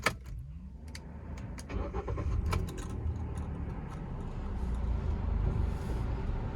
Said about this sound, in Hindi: सबसे पहले तो आप लोग इंजन की आवाज़ सुन लो कि भाई कैसी है।